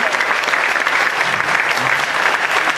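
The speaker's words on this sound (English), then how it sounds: "Please give the children a big round of applause one more time" Audience applause for children at a youth camp in Nigeria, a steady, dense wash of clapping that stays loud and even throughout.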